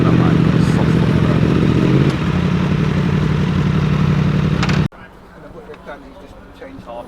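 A motorcycle engine runs loud and close at a Honda bike meet, a steady rumbling roar that stops abruptly near the end, leaving faint outdoor ambience.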